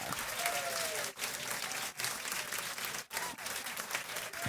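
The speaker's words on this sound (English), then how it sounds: "I was busy clapping and complimenting you." Steady applause from many hands, loud and continuous, with a few brief dips, no voices over it.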